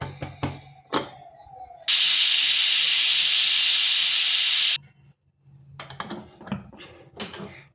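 A pressure cooker cooking wheat khichdi lets out a loud, steady hiss of escaping steam for about three seconds, framed by clinking and clattering of pots and utensils in a home kitchen.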